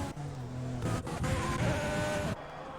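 Alfa Romeo Formula racing car in a Formula Racing League video game at the Austrian GP, engine whining through gear changes as it completes a lap, close and fairly loud.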